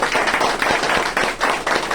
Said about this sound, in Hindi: एक बार जोरदार ताली बजा लीजिए